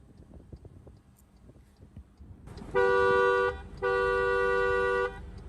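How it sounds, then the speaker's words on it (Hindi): Dual horn of a 2022 MG Astor Sharp CVT petrol car sounds in two loud, steady honks after quiet background, a long blast followed by a second of similar length. "डुअल हॉर्न है"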